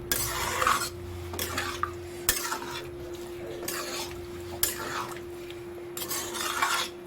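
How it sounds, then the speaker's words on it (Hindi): Chickpeas being mixed with spices in a pan for chole, heard as repeated scraping bursts of a spoon against the pan in an uneven rhythm, close and fairly loud, with no talking. "छोलों को मसाले के साथ बहुत अच्छे से मिक्स करना है।"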